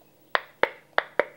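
An unsealed lid on a canning jar of strawberry jam pops four times: sharp, close metallic clicks spaced unevenly over about a second, with no other sound.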